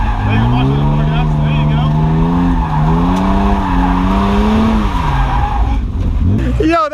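A car with a welded differential drifts, its tires letting out a loud, sustained wavering squeal that rises and falls over engine noise before cutting off near the end.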